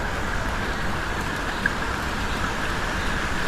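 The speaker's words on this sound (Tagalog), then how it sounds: "lumakas ang ulan" Heavy rain falling outdoors near a waterfall, a steady dense hiss of drops hitting surfaces at close range, with no voices over it.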